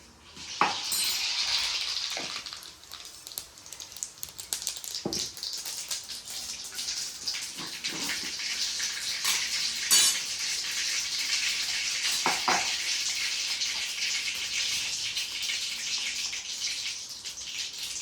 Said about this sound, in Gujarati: હવે આપણે વઘાર કરી લઈએ. વઘારમાં પહેલા આપણે નાખશું હિંગ, પછી નાખશું રાઈ